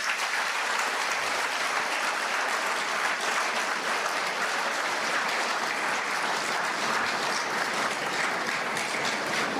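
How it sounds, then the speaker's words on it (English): A large audience at a college graduation ceremony claps for the graduates' parents, a steady, dense applause that holds even throughout with no voices standing out. "give a big round of applause"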